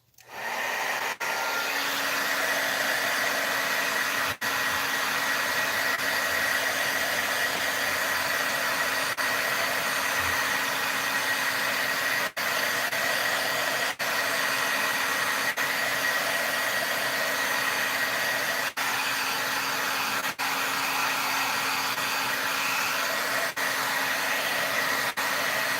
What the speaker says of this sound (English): So I'm going to hit that with my heat tool